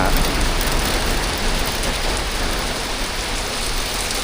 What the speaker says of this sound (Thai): ตอนนี้คือฝน มันเริ่มตกหนักแล้วนะ